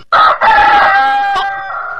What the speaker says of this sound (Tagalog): Manok nga puti kayo!